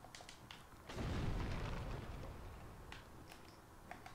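An explosion attack in Dark Souls with the Daughters of Ash mod goes off about a second in as a single muffled boom, then fades into a soft rumbling tail. The whole passage is fairly quiet.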